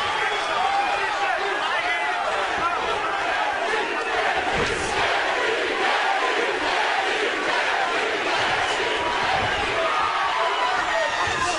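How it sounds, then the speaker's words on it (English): A large crowd roars and cheers continuously at an MMA fight, a dense steady wall of noise in a big arena, with a commentator's voice under it. "And they're cheering for Gaethje,"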